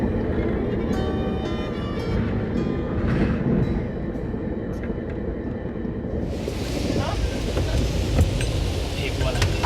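Passenger train travelling east across Canada, a steady close rumble of rolling stock with rail clatter that stays loud throughout, with voices talking faintly under the noise.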